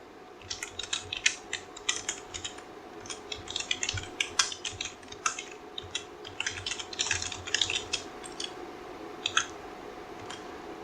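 Code for a VHDL flip-flop architecture is typed on a computer keyboard in quick irregular bursts of close, crisp key clicks over a quiet room hum.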